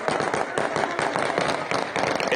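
Gunfire at a crowded airport, sharp shots cracking in quick irregular bursts amid background crowd noise.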